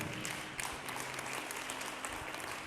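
A congregation applauds during a church service, with a steady, dense patter of clapping from many hands held at a moderate distance.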